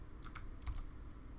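Keyboard typing while setting up code in Visual Studio: a few quick clustered keystrokes near the start, then another burst of clicks, close and fairly quiet.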